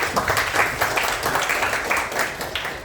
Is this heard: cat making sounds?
no